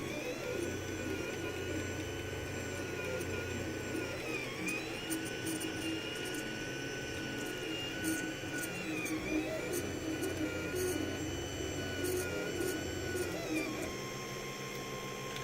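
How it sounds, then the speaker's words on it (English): 3D printer laying down a raft, its stepper motors whining in steady rising and falling tones over a constant fan hum, with occasional sharper ticks, close and continuous throughout. "So the printer starts off, does a little line to kind of make sure everything's going okay, and now it's starting the process to print that raft"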